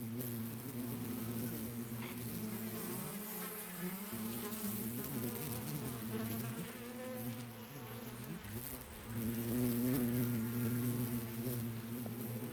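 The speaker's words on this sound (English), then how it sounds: "The undying bees! You will be subjected to bees!" Swarming bees from the video game The Hundred Line produce a dense, continuous low buzzing that swells slightly louder toward the end, with no talking.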